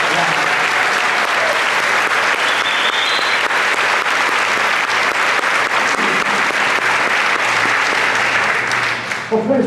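Sustained, loud audience applause fills an auditorium at the 63rd Annual Hawkins County Dairy Festival pageant, honoring a group of young men. The clapping stays dense and steady throughout, then tapers off abruptly at the end.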